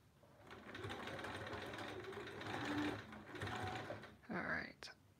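Sewing machine running steadily as it stitches seams on a quilt block, a continuous close mechanical whir that pauses briefly near the end before a short final burst.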